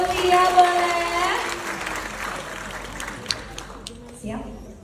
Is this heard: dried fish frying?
no